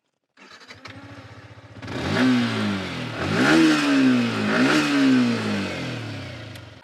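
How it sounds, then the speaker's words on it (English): A Yamaha R15M single-cylinder motorcycle starts with a brief crank and settles into a thumping idle, then comes three loud, close throttle blips that climb and fall back. "let us hear the beautiful R15."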